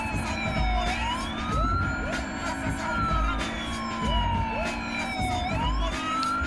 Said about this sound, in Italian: gli piace suonare la sirena